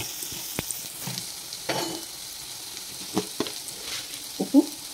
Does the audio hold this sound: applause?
no